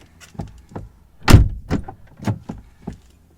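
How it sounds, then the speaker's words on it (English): A Volvo P3-chassis car door is shut and opened again, giving a heavy solid thump followed by several lighter clunks and latch clicks, close by with no talking. "let me just close and open the door again and see if we can get the light to turn on"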